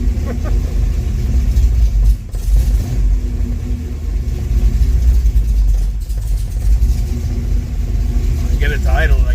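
A 1974 Chevrolet Camaro Z28 engine runs loudly up close with a deep steady rumble and a couple of brief dips in revs, while a voice talks faintly near the end.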